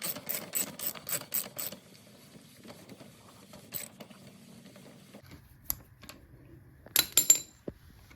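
The front axle of a Honda XR250L motorcycle is threaded back in by hand, making a quick run of metallic ticks and clicks followed by faint scraping and a few sharper taps, quiet and close with no talking.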